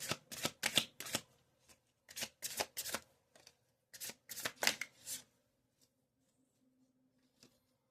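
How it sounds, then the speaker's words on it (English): Tarot cards shuffled in repeated bursts of sharp riffling taps, several rounds in a row, then the sound stops and near silence follows. "Shuffle these a little more."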